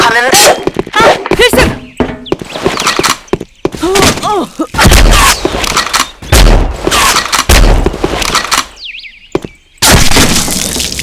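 A grenade thrown and exploding in the Sudden Attack online shooter, heard amid sharp game gunfire and booms on a supply depot map, with frequent loud voice chat over the action.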